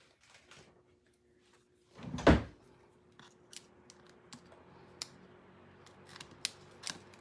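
Small scissors snipping, one loud close cut followed by several lighter clicks and snips, in a quiet room with no talking.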